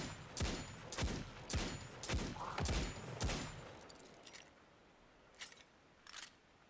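Hand cannon fire in Destiny 2, five loud, evenly spaced shots about a second apart with sharp cracks and short tails, followed by quieter clicks and a couple of faint distant pops.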